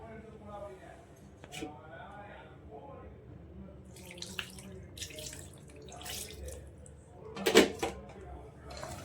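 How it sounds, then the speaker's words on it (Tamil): Water splashes and trickles into a pan of chicken curry in short bursts, with a louder pour near the end, while a person talks quietly in Tamil throughout. "இனி இதிலேக்கு கொஞ்சம் தண்ணி ஆட் பண்ணலாம்"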